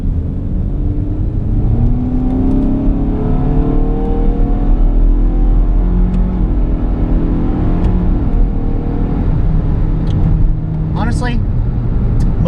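Inside a 2013 Jeep Compass, the engine drones loudly and climbs in pitch through its simulated manual gears, with steady road rumble underneath throughout.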